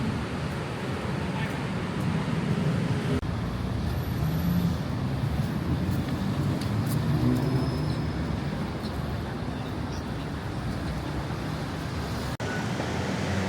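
Night traffic on a Bangkok street heard from above, a steady, dense road roar of passing cars with low engine rumble that swells and eases but never stops, with no clear voices on top.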